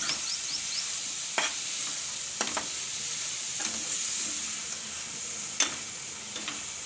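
Fenugreek greens and banana cook in a pan with a constant soft sizzle while a spoon stirs, sharp scraping clicks of the utensil against the pan recurring every second or two.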